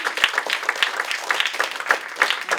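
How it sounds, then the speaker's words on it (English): Close, steady audience applause at the end of a live comedy show, with a dense patter of many hands clapping throughout. "Please keep the applause going while I keep talking"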